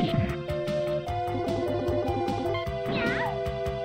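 A cat meows repeatedly, in short wavering cries, over a steady background of game music and electronic tones, with one rising and falling meow standing out near the end.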